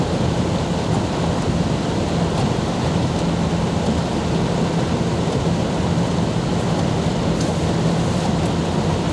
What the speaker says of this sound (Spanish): Gracias a Dios está lloviendo.